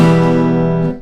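A single bright guitar chord rings out in a quick ta-da strum, sustaining cleanly for about a second before being damped, heard alone and close.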